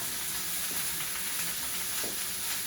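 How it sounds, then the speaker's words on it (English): Beef short ribs searing in a hot pan give off a constant, even sizzle and spitting hiss, with a couple of faint soft knocks and no talking. "We got everything seared on all sides."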